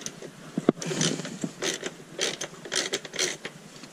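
A wrench loosens the rear axle nut of a motocross dirt bike during chain tensioning, giving close, irregular metallic ratcheting clicks and creaks in short bursts with small pauses between them.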